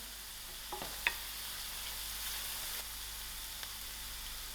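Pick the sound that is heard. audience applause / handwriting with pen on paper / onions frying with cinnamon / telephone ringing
onions frying with cinnamon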